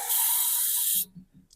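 Spray bottle misting anti-mildew solution onto plants: one steady hissing burst about a second long, close and loud, then quiet handling noises.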